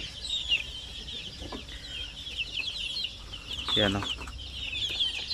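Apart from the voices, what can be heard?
Zampen native chickens clucking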